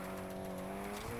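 Car tires skidding and squealing while a car drifts in the racing game Need for Speed Heat, a steady sustained screech with engine tones, close and continuous with no talk.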